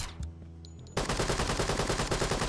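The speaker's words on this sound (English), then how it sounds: "He's blind firing." Enemy blind fire in the tactical shooter Door Kickers 2 erupts suddenly after a quiet stretch, a rapid, loud burst of repeated gunshots that continues steadily to the end.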